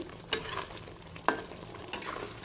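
Prawn malai curry masala is stir-fried in a pan: a low, soft sizzle runs underneath, broken by three sharp spatula scrapes spaced about a second apart, with no talking.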